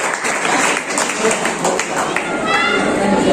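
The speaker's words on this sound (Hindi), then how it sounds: "जोरदार तालियां इसके लिए" Audience applause at an Islamic quiz held during an aqiqah gathering in a garden venue, a dense wash of clapping for a correct answer, moderately loud and sustained, with voices mixed in.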